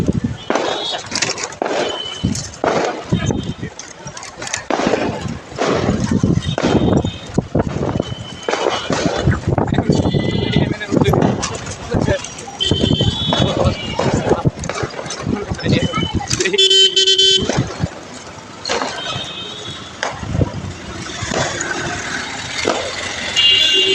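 Heavy evening road traffic on a main street in Sutrapur, Old Dhaka, during the Sakrain festival: dense engine noise and horn blasts fill the scene continuously, with a voice talking over the din.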